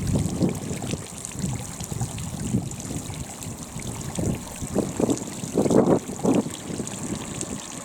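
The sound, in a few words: small waterfall in a stream gully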